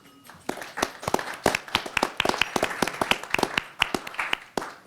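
A small audience at a lecture at the Harvard Club claps in scattered, distinct hand claps, fairly close and moderately loud, forming a brief, thin round of applause.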